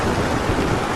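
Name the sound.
heavy rain and flood water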